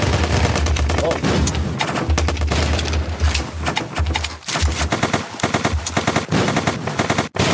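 Rapid automatic gunfire and shotgun blasts in the battle-royale game ZombsRoyale, loud and dense with bursts throughout, while players talk excitedly over the shooting.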